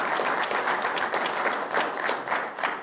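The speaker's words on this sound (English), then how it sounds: "So if we could just give her a clap for just the service she's provided." Audience clapping at a village State of the Village address, honoring a long-serving trustee: a dense, steady round of applause from a sizable room, evenly sustained and close, easing off slightly at the end.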